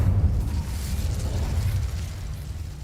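Incendio fire spell cast in Hogwarts Legacy, a loud low whooshing burst of flame that roars and slowly tapers off over a few seconds.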